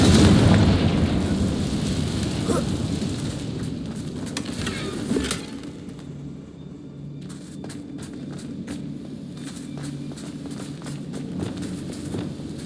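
A Confringo blast spell explodes against a damaged bridge in Hogwarts Legacy, a loud booming burst that crackles and rumbles for several seconds, then falls to a quieter ambient hum with faint clicks.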